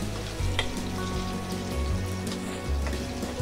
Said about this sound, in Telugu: ఆవాలు ఇవన్నీ కూడా దోరగా వేయించుకోవాలి